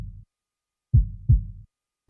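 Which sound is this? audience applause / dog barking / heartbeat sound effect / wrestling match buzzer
heartbeat sound effect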